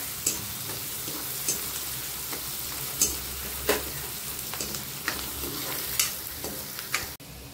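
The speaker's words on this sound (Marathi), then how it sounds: "कांदा चांगला लालसर होईपर्यंत भाजायचा आपला।" Onions frying in oil in a pan for veg kurma, a steady sizzle broken by regular scraping clicks of stirring, close and without talk.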